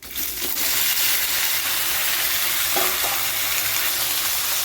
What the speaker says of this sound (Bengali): এবার এর মধ্যে আমি কচুগুলোকে দিয়ে দিচ্ছি